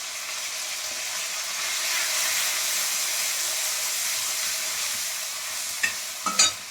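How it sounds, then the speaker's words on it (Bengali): Spices with ginger and turmeric sautéing in oil in a pan: a continuous close hissing sizzle, ending with a couple of brief utensil clinks against the pan. "দিয়ে আমি কষা করে কষে নেবো"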